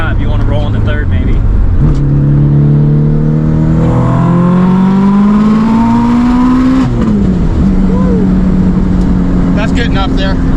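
Subaru WRX with roughly 800 wheel horsepower, engine loud and close as it revs and accelerates hard through the gears, pitch climbing in long sweeps with a shift break, talk around it.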